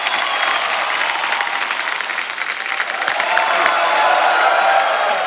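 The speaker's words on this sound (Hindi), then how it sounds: "एक बार जोरदार तालियां हो जाए" Studio audience applause on a Hindi comedy talk show fills the whole stretch, a loud, dense wash of clapping with scattered cheers and whoops.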